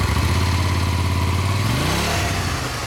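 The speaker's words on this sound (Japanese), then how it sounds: "マフラー音聞かせてもらえる？" A 2012 Honda VTR motorcycle with its exhaust muffler rumbles steadily up close at idle, then gives one quick throttle blip that rises and falls before settling again, with no talking.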